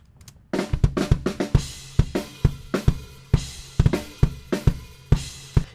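Bass drum captured by a microphone set farther back, giving fuller, roomier kicks with plenty of the rest of the drum kit bleeding in, as regular thumps under cymbals and snare hits.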